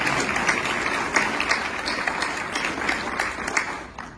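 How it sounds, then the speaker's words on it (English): A round of applause from the audience at a Kiwanis club mayoral debate, many hands clapping in a dense, steady wash that holds at moderate loudness throughout. "Let's give them a round of applause."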